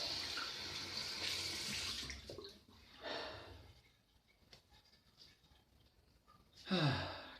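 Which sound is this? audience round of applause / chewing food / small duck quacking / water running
water running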